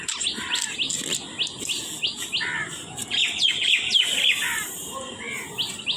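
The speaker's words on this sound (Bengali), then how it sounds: "আর সবসময় আমার ভিডিওতে পাবে পাখির ডাক" Small birds chirp and tweet in quick repeated bursts outdoors beside a home in a forest, the calls fairly close and clear, with no talking over them.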